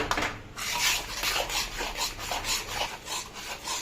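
Madugula halwa with ghee is stirred in a pan, producing rhythmic thick scraping and rubbing strokes, close and steady, with no talk.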